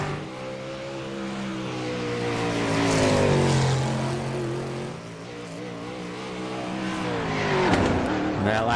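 A 305 sprint car runs a timed lap on a speedway, its engine roaring steadily with rising and falling pitch as it swings through the turns, loud and continuous, while a commentator talks over it.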